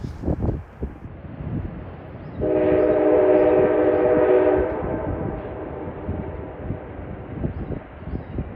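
A train at a New River overlook sounds a loud, sustained horn for about two seconds amid rumbling rail noise and wind buffeting, with the rumble continuing after the horn stops.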